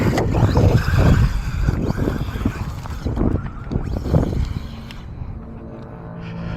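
A Jiusi WB12 Pro RC car runs on a dirt track, its small motor buzzing and crunching over the surface in a busy, continuous rush that eases toward the end, with no clear talk.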